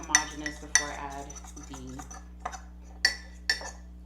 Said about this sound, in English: So I'm now going to mix this all up to break up the brown sugar clumps